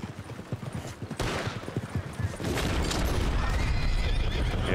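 Horses in the video game Red Dead Redemption neigh and whinny amid clattering hooves and sharp bursts of game noise, a dense, loud mix that intensifies partway through and stays busy to the end.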